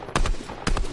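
Two sharp sniper rifle shots ring out in the video game Fortnite, played on PS5, each a loud, abrupt crack with a short tail, about half a second apart.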